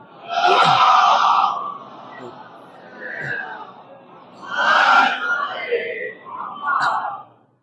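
A large majlis gathering chants salawat in unison, loud swelling bursts of many voices rising and falling in several waves, with brief pauses between them.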